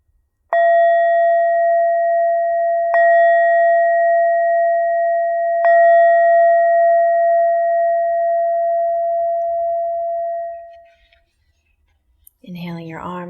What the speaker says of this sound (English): when you hear the sound of the bell